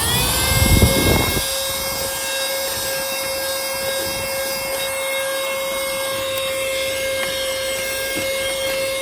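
A Lachesis handheld vacuum cleaner runs steadily throughout with a loud, continuous whine and strong tonal hum, a brief louder rustle near the start as it picks up dust.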